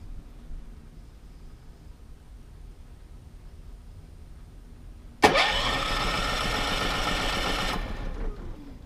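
An RV generator that has sat unused for a while cranks and catches about halfway through after a quiet stretch, then runs at a loud steady drone before cutting off near the end.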